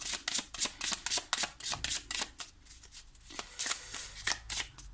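Oracle cards being shuffled by hand, a quick run of crisp riffling flutters and soft slaps repeating in bursts, close and fairly loud with no talking.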